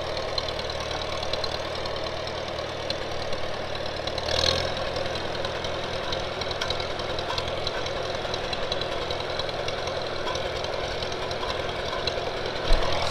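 A 1956 Farmall 200 tractor engine idles steadily in a rough, knocking chug, running unchanged at a constant level in the open without talk.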